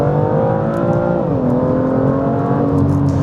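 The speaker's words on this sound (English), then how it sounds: "let's make sure that engine's nice and responsive" A BMW M2 engine pulls and revs in a steady, loud drone whose pitch shifts partway through as the gear or load changes, heard from inside the car with no talking.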